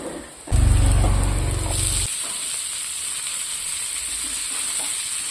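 Cut potatoes and drumsticks dropped into a hot pan, a sudden loud burst of sizzling that crackles strongly for a second or two, then settles into a steady, quieter hiss.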